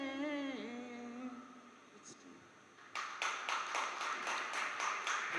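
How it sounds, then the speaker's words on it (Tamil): Hands clap in a steady rhythmic pattern at an astrology conference in Salem, following a stretch of chanted singing; the claps come in quick repeated bursts, moderately loud, with the vocal line fading beforehand. "எதுக்காக கை தட்டு எதுக்காக கை தட்டு"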